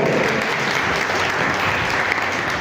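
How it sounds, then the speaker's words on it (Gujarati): Audience at a college annual function applauds loudly, a dense, steady wash of clapping from many hands filling the room throughout, with no speech over it. "જોરદાર તાળીના ગણગણાટ મિત્રો"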